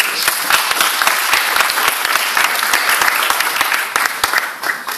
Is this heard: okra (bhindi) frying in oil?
no